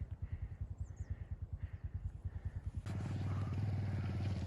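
A 220 motorcycle engine on a slippery, icy off-road mountain track between Bulbule and Jumla Bazar. It chugs in quick rhythmic pulses, then swells into a louder, steady roar partway through.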